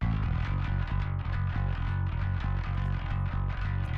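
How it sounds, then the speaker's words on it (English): A tight, aggressive distorted metal bass mix plays alone, chugging in fast palm-muted rhythmic bursts with a gritty, buzzing edge and steady loudness. "that will give you a super tight and aggressive bass sound"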